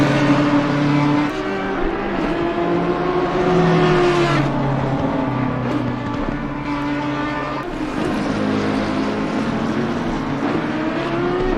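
Audi and BMW race cars battle closely at Snetterton in a PC sim racing league, their engines droning loud and steady with shifting pitch as revs rise and fall, alone without any talk.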